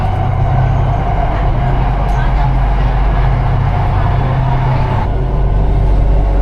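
Steady low rumble of a Ho Chi Minh City metro train in motion, with constant rolling noise and faint interior sounds throughout.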